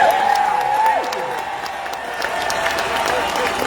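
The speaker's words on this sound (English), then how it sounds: "Now give me that applause." A stage-event audience at a corporate conference claps and cheers in a loud, dense burst of applause with a few whoops rising above the clapping.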